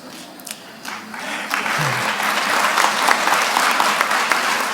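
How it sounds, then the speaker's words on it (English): Applause from a conference audience at an early childhood care and education event, starting with scattered claps and swelling into steady, full clapping from a large crowd that continues to the end. "I'm not sure what you're clapping about"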